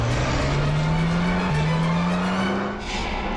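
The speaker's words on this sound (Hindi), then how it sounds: "पीछे यूटर्न लो ना और यहाँ दाईं ओर से निकालो गाड़ी, जल्दी" A car swings through a quick U-turn on a blocked road, engine droning with a steadily rising pitch as it accelerates, close and loud, with a faint hint of tire scrub near the end.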